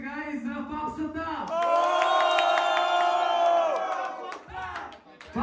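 Audience at a Varna freestyle rap battle erupts in loud cheering and whooping, a swelling roar that peaks midway, with voices shouting over it before fading.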